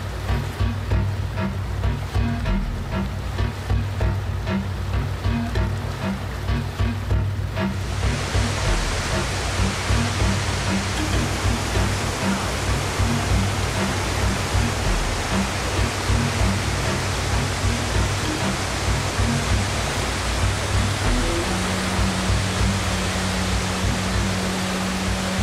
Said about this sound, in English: The Devil's Throat is the most amazing waterfall of the whole park.